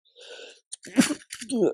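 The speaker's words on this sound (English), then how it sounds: "Sorry for this sneezing." A person sneezes close up, a short indrawn breath followed by a sharp burst, then another breathy sneeze-like exhalation, with brief quiet gaps between sounds.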